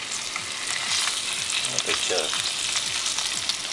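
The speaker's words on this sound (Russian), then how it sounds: "Берете ее прямо на сковороду и выкладываете." Floured smelt fish laid straight into a hot frying pan sizzle loudly and steadily, with scraping stir sounds and a brief spoken remark over the crackle.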